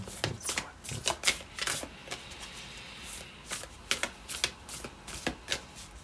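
A deck of cards is shuffled by hand in a quiet room, with repeated crisp riffling bursts and soft flutters coming in irregular clusters, close and fairly faint, with no talking.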